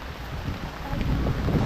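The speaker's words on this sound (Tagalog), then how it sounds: "Grabe ang lakas ng hangin." Steady roaring wind buffets the microphone, a continuous low rumble that swells slightly louder toward the end.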